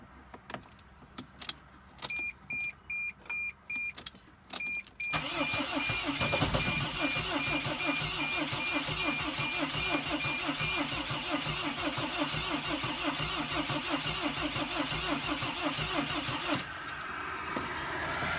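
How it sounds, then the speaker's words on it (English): A Mercedes Sprinter van with a no-start fault chimes a few times, then its engine cranks, catches and runs loudly and steadily for about ten seconds before cutting out and stalling. "it actually started up and it just quit on me"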